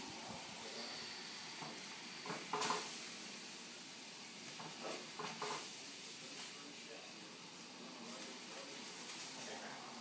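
Scallops sear in a hot pan with a soft, steady sizzle and hiss, broken by a few brief louder crackles and scrapes.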